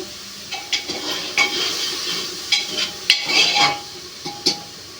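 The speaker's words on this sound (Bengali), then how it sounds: "দেখো সবজিটা ভাজছি" Vegetables fry with cumin seeds in a decades-old pressure cooker, giving a soft continuous sizzle broken by a few scraping stirs and light metal clinks, close by with no talking.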